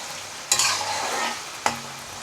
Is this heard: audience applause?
no